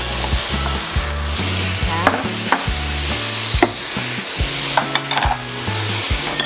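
Pork sizzles loudly in a hot pan for humba while being stirred, a continuous bright frying hiss broken by scraping clatters of the utensil against the pan.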